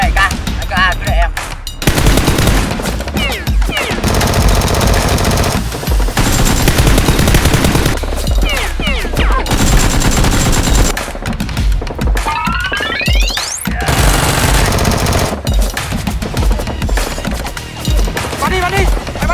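Rapid bursts of toy Nerf blasters firing during a mock battle between costumed warriors and a criminal gang, loud and dense with clattering shots, whooshes and brief shouts mixed in throughout.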